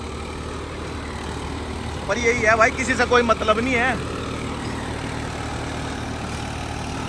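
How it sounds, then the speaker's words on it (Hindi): A farm tractor engine runs steadily at idle in the open, a constant low rumble throughout while someone talks briefly over it. "और ये देखो ट्रैक्टर।"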